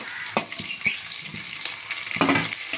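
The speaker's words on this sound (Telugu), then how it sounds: "అవన్నీ వేసుకుని బాగా ఫ్రై చేసుకుందాం" Onions, green chilies and tomato pieces fry in a pan for vegetable pulao, giving a soft steady sizzle with a few sharper clatters and stirring knocks.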